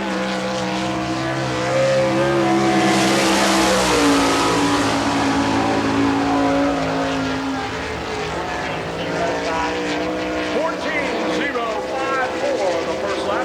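Race car on a qualifying lap at Barberville speedway during an All Star Circuit of Champions Florida Speedweek event: a loud engine roar that swells and drops in pitch as it passes, with an announcer talking over it.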